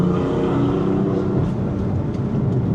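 BMW M4 with about 600 hp accelerating hard on the Genting Highlands mountain road, a loud continuous engine roar with rising harmonics, steady and close throughout.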